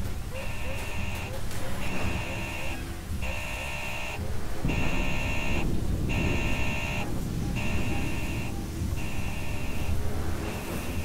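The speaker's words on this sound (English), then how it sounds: "Oh, it's the alarm!" Pulsing electronic alarm from the station alarm system in the video game Alien: Isolation, repeating in regular on-off bursts for the whole stretch over a dense background of game noise.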